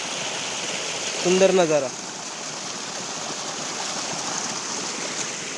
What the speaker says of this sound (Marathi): हा असाच पाणी पुढे वाहत वाहत खाली जाऊन आपल्या नदीला मिळतं